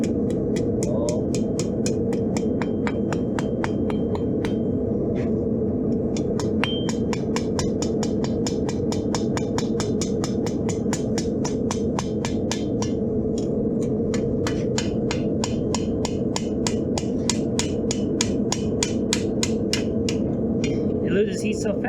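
Rapid, steady metallic blows of a small hammer forging hot steel into a leaf, ringing out continuously over a constant low hum, dozens of quick strikes in an even rhythm, close and fairly loud.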